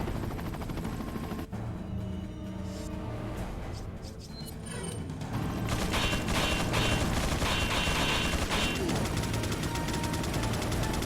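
Mike's rapid gunfire in Resident Evil 4 rattles in dense bursts, with mechanical clatter and a helicopter-like drone behind it, growing louder and more continuous in the second half.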